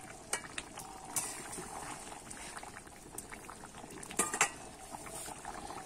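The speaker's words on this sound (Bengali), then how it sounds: "ঝোলটা কিন্তু আমার ভালোভাবে ফুটে গেছে" Fish curry gravy with potato and taro bubbles at a quiet, steady boil, with occasional light clinks of utensils above the simmer.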